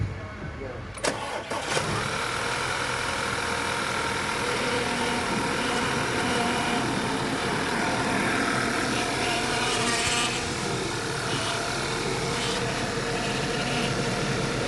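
An Audi A5 2.0 TFSI restarts after power steering fluid is topped up, its engine cranking and catching before settling into a loud, steady idle with a rough whine from air in the steering system, close and continuous throughout.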